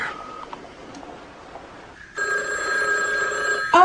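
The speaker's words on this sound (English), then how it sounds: "Let me get the phone." A telephone bell rings in a hospital setting near a nurse's station, a brief ring early on and then a louder sustained electronic ringing in the last seconds over a faint background murmur.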